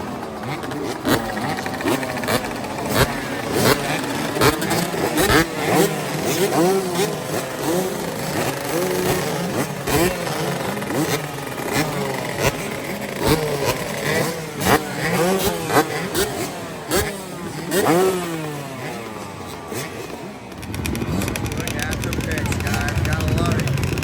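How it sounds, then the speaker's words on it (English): Several two-stroke dirt bikes, including Yamahas, held wide open at a two-stroke gathering, their high buzzing engines rising and falling loudly and overlapping for a long stretch, with people talking underneath. "They will be holding these two strokes wide open."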